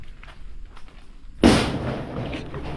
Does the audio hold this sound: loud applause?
no